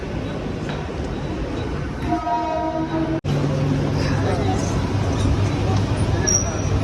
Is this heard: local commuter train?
yes